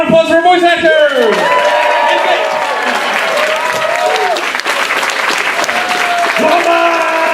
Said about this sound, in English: applause for voice actors!